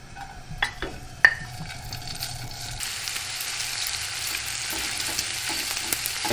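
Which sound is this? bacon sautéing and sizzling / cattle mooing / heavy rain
bacon sautéing and sizzling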